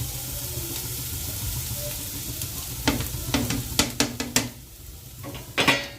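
Bread crumbs stirred with chopped onion and green chili in a pan, a soft sizzle underneath with a series of sharp spatula scrapes and knocks against the pan in the second half.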